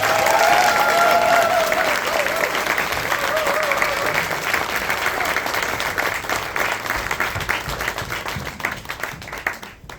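An audience at a poetry performance night in Nottingham claps for the performers in a loud, sustained round of applause that slowly thins and fades toward the end.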